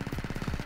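A rapid burst of repeated gunfire from a bullet-type weapon in the modded Battlefront 2 (2005) game, with about ten evenly spaced shots in under a second. The shots are moderately loud, and no voice is heard.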